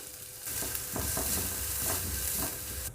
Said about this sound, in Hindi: प्याज को हल्का सा कुक करना है।